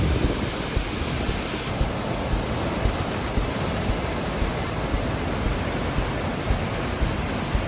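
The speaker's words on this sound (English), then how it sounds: "Waterfall" Waterfall in Iceland roaring as a dense, unbroken rush of water, loud and close, with gusty wind mixed in and no voices.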